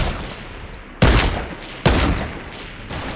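Semi-auto rifle hip-fired in Fortnite, with three loud, sharp bursts spaced about a second apart over a steady background wash.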